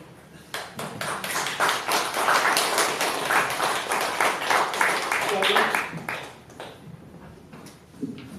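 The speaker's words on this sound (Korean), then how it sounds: "우리 허도나 선생님 좀 박수" An audience in a lecture hall bursts into applause for a speaker, clapping building quickly, holding strong for several seconds and then tapering off, with a voice heard briefly near the end.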